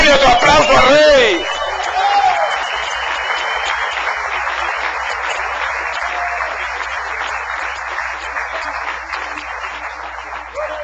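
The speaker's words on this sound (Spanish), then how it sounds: "¡Dale otro aplauso al Rey!" Church congregation applauding during a pastors' service, a brief voice at the start giving way to sustained crowd clapping mixed with chatter and some laughter, fading gradually.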